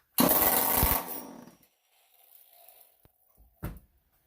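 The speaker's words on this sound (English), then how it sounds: "Might be a little loud with no muffler on it" A chainsaw engine with no muffler and a fuel problem roars harshly and loudly for about a second, dies away, then gives another short sputtering burst.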